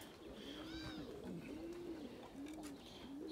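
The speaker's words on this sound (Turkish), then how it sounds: "ses, kuşun sesi olacak arkadaşlar" A pigeon or dove coos quietly in a slow repeating rhythm, with a few soft higher chirps mixed in, faint and alone in a quiet setting.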